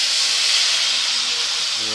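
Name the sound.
adding broth to fish and potato curry in hot pan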